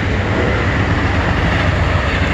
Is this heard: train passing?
yes